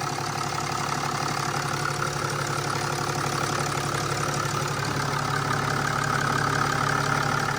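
A turbo diesel Mercedes engine idles steadily after being brought back to life, a constant loud rumbling clatter with a low knocking texture, close and unbroken, with no speech.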